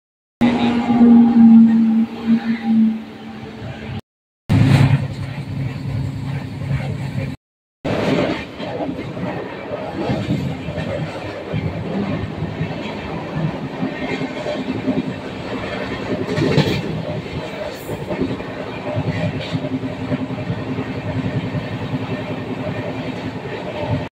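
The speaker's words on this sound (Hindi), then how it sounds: "दोस्तों उज्जैनी एक्सप्रेस आ गई है" Ujjaini Express train arriving at a station in India, a loud, continuous rumble with rhythmic clatter of wheels on rails and a low horn-like tone early on, steady throughout with two brief gaps.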